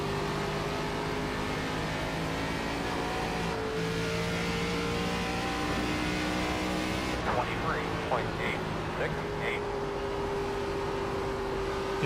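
Simulated race car in iRacing running on worn older tires, engine drone holding steady with shifting pitch, a continuous whir beneath occasional talk.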